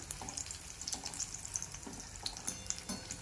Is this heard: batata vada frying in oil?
yes